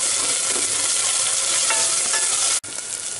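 Vegetables and deseeded green chili being stir-fried give a loud, dense, steady sizzle, close to the pan, broken only by a momentary drop-out near the end; no one speaks.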